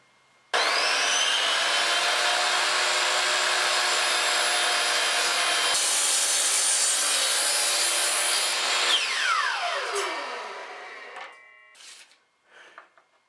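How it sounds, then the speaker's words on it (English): A miter saw cuts wooden picture frame pieces, a loud close whine that holds steady for about nine seconds, then winds down with a falling pitch and a few clattering handling sounds. "Time to take these 4 pieces to the miter saw"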